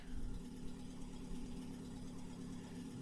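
A small, weak car engine runs steadily in a survival video game, a low continuous rumble with a constant idling vibration and no voices.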